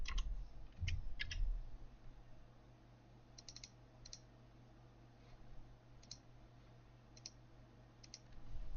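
Scattered keystrokes on a computer keyboard during a photo-editing session, a few quick clusters of clicks separated by pauses, fairly close but quiet over a low background hum.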